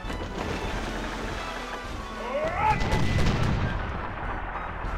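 Ship cannons in the retro video game Sid Meier's Pirates! fire in dull booming blasts over a constant rushing noise, with a short whistling streak midway and a heavier rumble toward the end.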